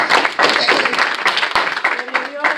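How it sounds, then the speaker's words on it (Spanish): A church congregation claps together in a dense, steady burst of applause, close and loud throughout, with voices mixed in. "Denle una ofrenda de aplausos a él"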